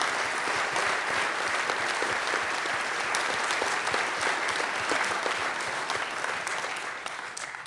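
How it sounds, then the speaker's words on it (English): Dense, steady audience applause at a film festival panel, many hands clapping loudly and continuously before tapering slightly at the end. "give them all a nice round of applause for being here"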